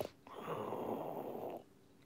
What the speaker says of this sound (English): And I love pug snores